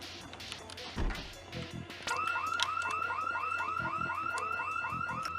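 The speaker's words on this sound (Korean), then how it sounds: "알람 울려놨어" A car alarm in the zombie survival game Project Zomboid starts after a brief thud, then keeps whooping in a rapid repeating cycle of rising electronic tones at a steady pace.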